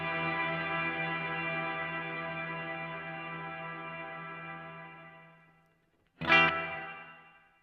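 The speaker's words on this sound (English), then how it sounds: "the time control sets how long the reverb goes for" A guitar played through a Mad Professor Kosmos reverb pedal rings out as one long sustained chord with a wide reverb tail that fades to near silence, then a fresh strum blooms and decays again.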